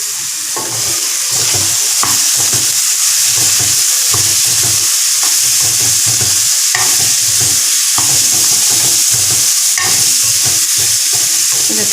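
Green beans sizzle and crackle loudly in a hot pan with turmeric while a utensil scrapes and stirs them in a steady, repeated rhythm.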